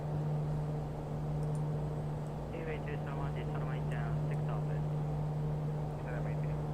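A King Air 350 turboprop in a flight simulator game gives off a steady engine drone, a constant low hum with a faint, airy rush and a few soft chirps over it.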